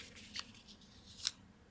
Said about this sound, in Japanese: カッターとかハサミで半分に切ってください